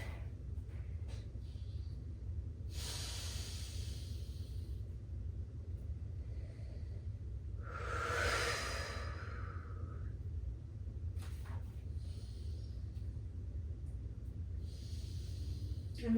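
Slow, deliberate breaths drawn in and pushed out during yoga practice in downward facing dog, a few soft airy rushes spaced apart over a low steady room rumble, with no voice.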